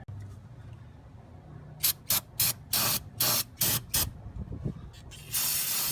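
Cleaner sprayed onto the throttle body of a Chevy 1500 4x4 during a tune-up: a run of short, sharp hissing bursts, then one longer spray, over a low steady hum.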